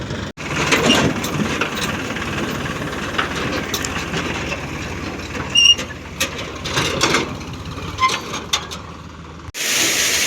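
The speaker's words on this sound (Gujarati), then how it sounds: "ટ્રેક્ટર લઈને આવે છે તમે જોઈ શકો છો" A steady rumbling engine chugs throughout with mechanical rattles and clanks, cutting off abruptly near the end before a brief burst of noise.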